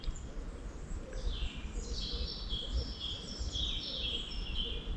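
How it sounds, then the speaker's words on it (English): Several small birds chirp and trill in overlapping bursts against a steady low background rumble, with no one speaking. "Just sitting here you can hear everything, like the birds. We've got wrens, we've got finches, we've got robins"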